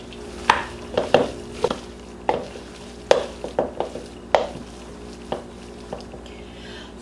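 Lumpiang Shanghai filling ingredients, ground meat seasoned with black pepper, are mixed in a bowl, giving a series of close, irregular soft thuds and scrapes with short pauses between strokes.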